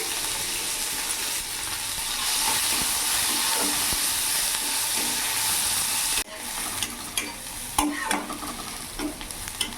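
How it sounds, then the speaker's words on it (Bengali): Sliced onion dropped into hot oil with whole cumin in a wok, frying for a Bengali katla fish curry: a loud, steady sizzle and hiss with stirring scrapes, dipping briefly before the sizzle resumes with clinks. "এখানে আমি একটা পেঁয়াজ দিয়ে দিলাম।"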